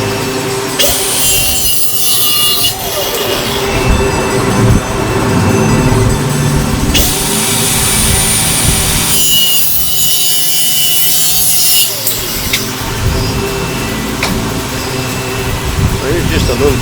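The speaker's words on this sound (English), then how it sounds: "So I grew up around skill saws." A circular skill saw cuts through wood during boat hull fairing work, a loud, sustained buzzing rip that pauses briefly twice before resuming.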